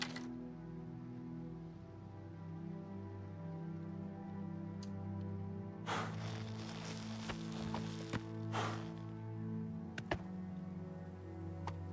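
Horse hooves clop along a road in the video game Elder Scrolls IV: Oblivion Remastered, quiet, irregular hoof falls over a sustained musical drone, with a couple of brief louder bursts of hoof noise partway through.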